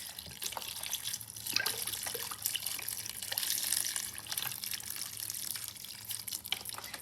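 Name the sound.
broth pouring freely from a carton into a soup pot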